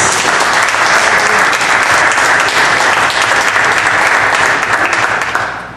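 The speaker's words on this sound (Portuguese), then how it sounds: "mais uma vez aplauda o Senhor, porque Ele merece" A church congregation at a men's ministry worship service claps loudly and continuously, a dense full-room applause that holds steady for several seconds before tapering slightly at the end.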